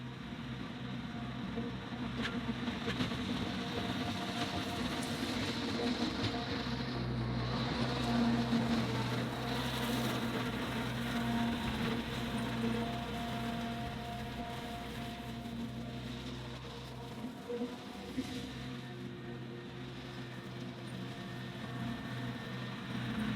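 Cab-equipped 25 hp compact tractor pulling a 5-foot cutter with the air conditioning on: a steady, droning engine hum with a low mechanical whine, constant and moderately close throughout, with slight dips and surges in load.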